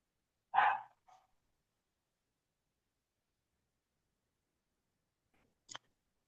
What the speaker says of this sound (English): we are dog sitting starting today, and so we have a guest dog. Things might get a little loud.